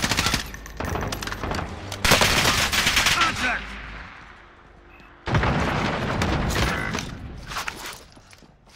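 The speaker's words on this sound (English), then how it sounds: "Friendly position airstrike inbound." Airstrike explosions and heavy gunfire in a video game, with loud bursts of rapid fire and booming blasts that come in two waves and fade out between them.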